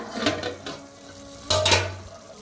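Masala roasting in oil in a pan over a village wood-fired stove, with faint sizzling broken by two bursts of spoon scraping and stirring against the pan, one early and a louder one midway.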